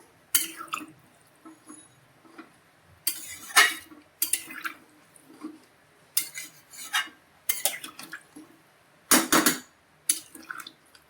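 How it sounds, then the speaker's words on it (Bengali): Water is poured into an egg, potato and soybean curry and stirred in a pan, heard as sharp metallic spoon scrapes and clanks in irregular bursts against the pot, with quiet gaps between them and no talking. "এবার জল দিয়ে দেবো। এবার নাড়িয়ে নেবো একটু।"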